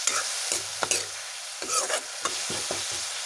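Lai shak (mustard greens) sizzle and hiss in a hot pan just after salt goes in, while a spatula stirs them in several scraping strokes, close and steady throughout.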